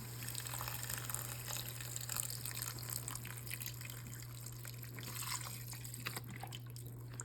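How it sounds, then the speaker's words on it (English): Chicken broth poured from a carton into a soup pot makes a steady, soft liquid splashing and trickling over a constant low hum, with no talking. "Now, you're gonna add about 8 cups of this chicken broth."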